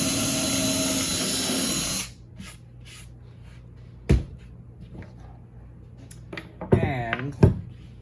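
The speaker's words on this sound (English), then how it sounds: "I want to get a pilot hole drilled with a smaller bit" A hand drill whines loudly for about two seconds as a smaller bit bores a pilot hole in cornhole board wood, then stops, leaving quiet handling clicks and knocks.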